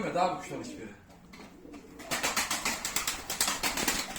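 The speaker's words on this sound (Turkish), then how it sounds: "Bela bu kuşu ben demin izledim" Pigeons coo in a repeated, rhythmic pattern close by, with a voice talking briefly at the start.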